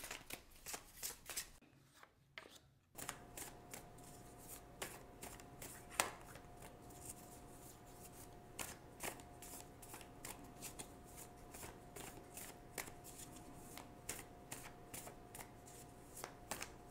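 Tarot cards shuffled by hand in a quiet room: a long run of soft, rapid card taps and flutters with a short riffle near the start, close and faint, steady throughout without speech, over a faint background hum.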